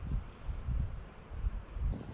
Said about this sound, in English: That's a good gust of wind right there.